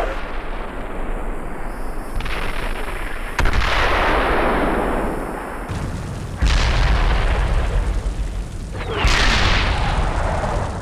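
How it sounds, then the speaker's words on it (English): Gunfire and artillery in the tank simulator game Steel Beasts Pro: loud heavy booms and blasts strike repeatedly, each followed by a long rolling decay, with dense rumbling fire between them. "We're taking fire."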